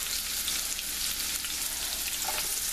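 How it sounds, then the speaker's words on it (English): Diced red onion sizzling in hot olive oil, a steady, dense hiss of frying that holds evenly from start to finish, close and moderately loud, with no voices. "We're going to add our onions and turn the heat down just a little bit."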